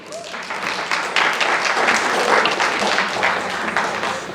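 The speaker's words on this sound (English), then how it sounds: "Give yourselves a round of applause." Audience applause at a fall conference keynote, a dense, steady wash of many hands clapping that fills the room and holds at an even loudness from start to finish, with no voices over it.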